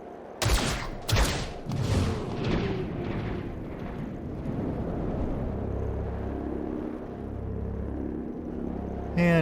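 Squad gunfire from XCOM: Chimera Squad opens with a rapid cluster of loud shots and bangs, then settles into a rumbling, rolling wash of echoing blasts and sustained low noise.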